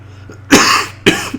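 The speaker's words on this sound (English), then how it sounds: "absolute coughing fit right now" A man's harsh coughing fit, two loud, close bursts about half a second apart with a faint throat sound before them, heard alone with no talk.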